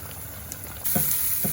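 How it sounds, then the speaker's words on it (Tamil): Marinated rooster pieces dropped into moderately hot oil, a faint hiss that jumps into a steady, louder sizzle partway through, with a couple of soft low thumps as pieces go in. "அப்போ பொறிச்சு எடுப்போம்"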